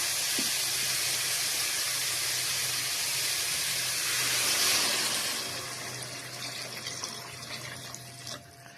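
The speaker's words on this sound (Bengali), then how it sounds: "এখন আমি পানি দিয়ে দিব।" Water poured into fried masoor lentils and spices in a hot pan, a loud rushing hiss of steam and splashing that swells, then eases into a quieter bubbling simmer.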